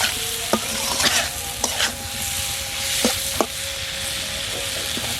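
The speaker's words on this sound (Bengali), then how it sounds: "পেঁয়াজের সাথে হলুদ মরিচের সাথে টমেটোটা ভালো করে কষিয়ে নেব" Tomatoes cooked down with onion, turmeric and chili sizzle steadily in a pan, broken by several sharp scraping knocks of a spoon stirring against the metal; no one speaks.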